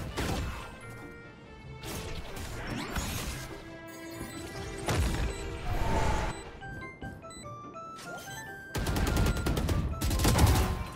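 Phantom rifle gunfire in Valorant, with bursts of rapid shots, impacts and crashing hits in a busy game mix, no talking.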